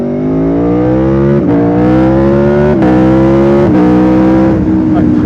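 An Italian motorbike engine revs hard and loud up close in a series of rising throttle blips, the pitch climbing, dropping back and climbing again several times.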